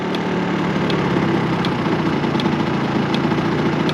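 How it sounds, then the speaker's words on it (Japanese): Close, steady idle from the muffler of an early-model Honda Live Dio ZX scooter, a constant buzzing drone with faint regular ticking running through it. "そう、これマフラーの音。"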